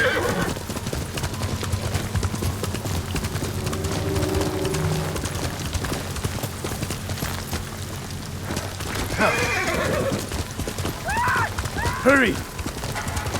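A horse gallops with steady clip-clopping hooves in the video game Ghost of Tsushima, then gives sharp neighs and whinnies near the end, with speech heard over the riding.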